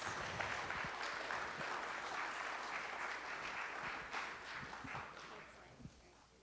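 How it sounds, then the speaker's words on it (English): Audience at a talk breaking into applause, a soft, steady patter of many hands clapping that sounds distant and gradually tapers off. "Give him a round of applause."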